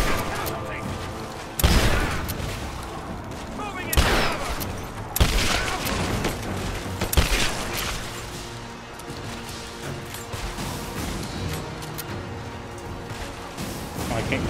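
Gunfire in the Rise of the Tomb Raider video game: bursts and sharp impacts over a busy, steady layer of game sound and music, with a few loud cracks standing out.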